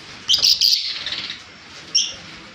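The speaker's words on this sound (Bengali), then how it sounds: "ভায়োলেট ফিসার বন্ধুরা এই পাখিগুলো আমার বাড়িতে আছে" Violet Fischer's lovebirds chirp in a few sharp, high bursts close by, then go quiet before one more short chirp, with no talking.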